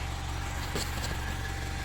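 A 2015 Mitsubishi Outlander Sport's engine idles steadily at low volume, a smooth continuous hum with a faint rhythmic throb and no talking.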